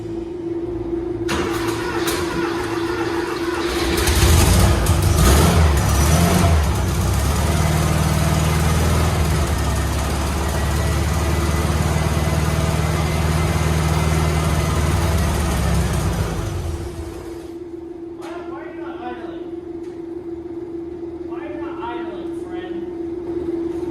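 A $300 Porsche rat rod engine, running but not idling properly, roars loudly and steadily for about fifteen seconds with a revving surge early on, then cuts off, leaving quieter background noise.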